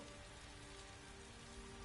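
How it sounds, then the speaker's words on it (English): Steady rain pours during a storm in the video game Elder Scrolls Online, an even, dense hiss with no breaks, heard alone at low level. "I could do without this damnable rain. It's been storming since we arrived,"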